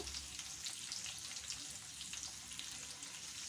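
Jain-style stuffed okra (bhendi) cooking uncovered in a pan gives off a steady, soft, hissing sizzle that continues evenly throughout, fairly quiet and close.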